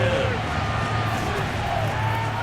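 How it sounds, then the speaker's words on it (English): Stadium crowd noise from a football video game matching the 1988 Eagles against the 1999 Titans, a steady dense roar of cheering that holds at an even level throughout. "Crowd getting in it a bit already."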